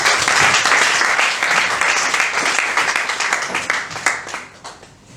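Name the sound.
congregation applauding in church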